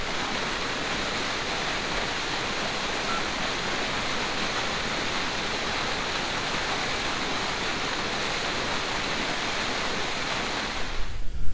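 A waterfall at the Loup of Fintry in Scotland roars steadily and close, a dense, unbroken rush of falling water that stays even and loud for the whole stretch, with no voices.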